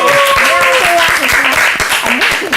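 An audience claps in welcome for a child named Gippeumi on a church talk show, a steady wash of applause lasting throughout, with a voice and tonal background sound layered over it.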